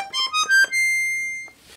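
Black Catena 41-key, 120-bass piano accordion on the bright piccolo register, playing a few quick notes and then a long held tone, close and clear with no speech.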